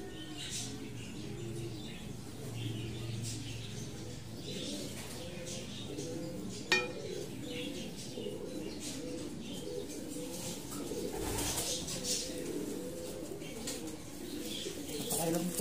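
Pigeons coo repeatedly in soft, low rolling phrases, with a faint chirp or two and light background noise.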